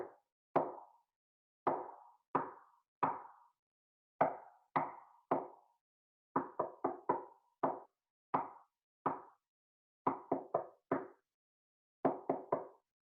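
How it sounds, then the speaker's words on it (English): Knocks on a wall between two rooms tapping out Morse code, sharp single raps in irregular groups of one to four, spaced by pauses and close by. "Lila could hear Carter knocking on the wall between their rooms"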